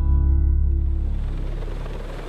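A Sikorsky S-64 Skycrane heavy-lift helicopter, a 1960s design, gives a loud, deep, rhythmic rotor thump and engine drone that fades steadily as it moves away, with no voices.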